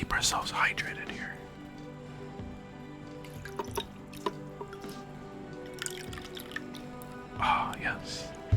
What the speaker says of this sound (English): it's just me drinking the water